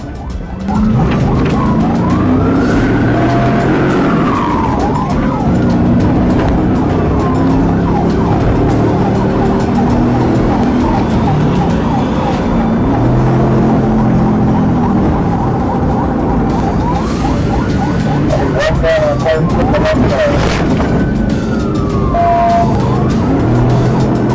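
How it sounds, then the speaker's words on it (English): Police sirens wail continuously behind a fleeing Mustang at more than 110 miles per hour, rising and falling over loud, steady road and engine noise throughout. "hitting more than 110 miles per hour as sirens echo behind him"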